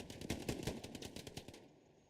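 Rapid gunfire from an esports first-person shooter match, a quick burst of sharp shots with the last one landing as a headshot, loud and close, trailing off into quieter ambience.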